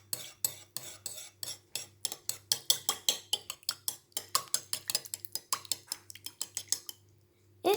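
A utensil stirs donut batter with baker's yeast in a bowl, making a quick, steady series of close clinking taps against the side that stops just before the end.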